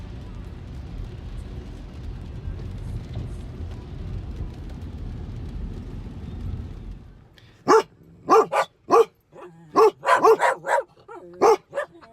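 A steady low rumble gives way to a run of sharp, loud dog barks at pedestrians near a car, about eight in quick irregular bursts, close by.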